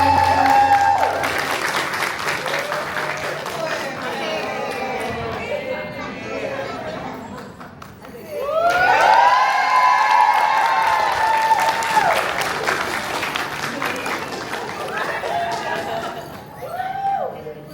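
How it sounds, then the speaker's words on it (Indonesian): An audience applauds at a school after-school activities showcase, with sustained clapping and crowd chatter. A voice talks over the noise and a loud cheering swell comes partway through. "Tepuk tangan yang meriah sekali lagi untuk Tani Nusantara."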